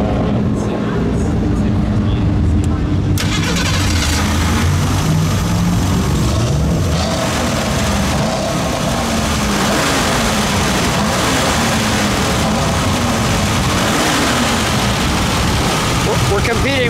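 The factory V6 engine of a 1976 Ford Pinto Runabout turns over and then settles into a low, rough idle, heard up close with a person talking over it.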